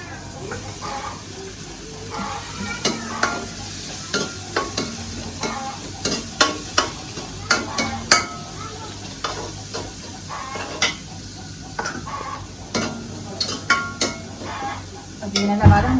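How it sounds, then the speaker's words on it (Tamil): Onion, green chili and curry leaves frying in a pan with constant sizzling and frequent, uneven scraping and clinking of a spoon against the pan, close up. "அப்படியே வெங்காயம் பச்சை மிளகாய் எல்லாம் போடணும் கருவேப்பிலை"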